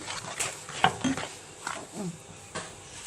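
Semolina is stirred into a ghee mixture in a bowl, with soft scraping and a few metallic clinks of a spoon against the dish, quiet and irregular, with no talking.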